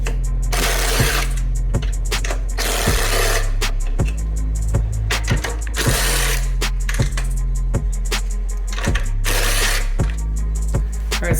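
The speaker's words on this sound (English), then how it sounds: "then put the bar down and then reinstall the bolt or the nuts" A ratchet reinstalling 13mm bolts or nuts on a strut bar of an SVT Focus, close and loud, with rapid clicking runs broken by regular sharp pauses between strokes.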